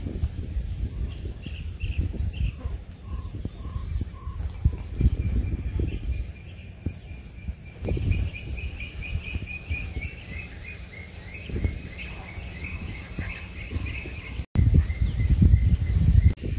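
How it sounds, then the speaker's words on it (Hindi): Birds sing and chirp in a quiet forest on a Sunday, with repeated short calls rising above a steady high insect drone and low rustling, moderately near. "ये चिड़ियों की आवाज़ सुन रहे हैं?"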